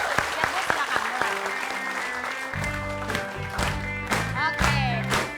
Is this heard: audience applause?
yes